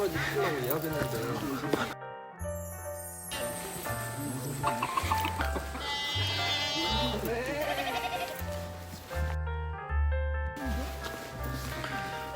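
Goats bleat on a Korean farm where bellflower roots are dug, their wavering calls rising over a busy background as people talk around them.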